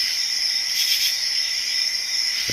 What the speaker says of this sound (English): This is common true katydid, and they are singing by rubbing their wings together